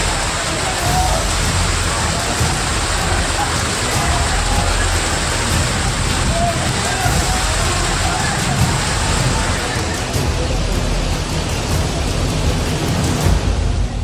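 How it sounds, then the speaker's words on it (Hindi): Heavy rain pours down in a continuous, dense roar, loud and close throughout with no let-up. "पहाड़ों से लेकर मैदान तक बारिश ने कोहराम मचाया है"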